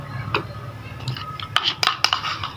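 A spoon scooping rice flour into a bowl, several sharp metallic clinks and taps against the bowl, close and intermittent, with a soft hum underneath and no talking.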